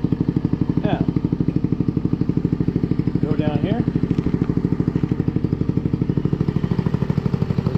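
A GY6 150cc scooter engine with a stock CVK carburetor idles during carburetor tuning, a steady, loud, rapid putter right up close, while someone talks briefly over it.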